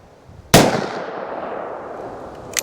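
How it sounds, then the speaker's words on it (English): A single .44 Magnum Lever Evolution round fires from a revolver outdoors, one sharp, very loud blast that rings and decays over a couple of seconds, followed by a faint click. "let's see if we can get 5 rounds of this 44 mag without getting blown over"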